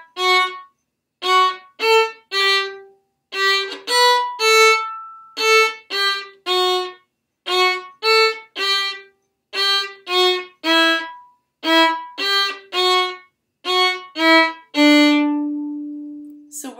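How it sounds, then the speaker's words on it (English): A violin plays the beginner piece Allegretto as a string of short detached bowed notes in groups, ending on one longer held note, clear and close with no talking. "on Monday, we got to learn the first line of our next song, and it's called Allegretto, and it sounds like this."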